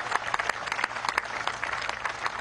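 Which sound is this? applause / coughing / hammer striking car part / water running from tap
applause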